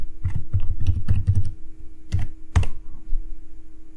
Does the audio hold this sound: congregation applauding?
no